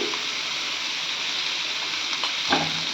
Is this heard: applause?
no